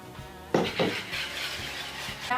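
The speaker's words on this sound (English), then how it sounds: "In a large bowl, you're going to whisk together 2 large eggs, Brown sugar," A whisk beats two large eggs with brown and white sugar in a large bowl, quick clinking strokes against the bowl, close and fairly soft, with a couple of sharper knocks.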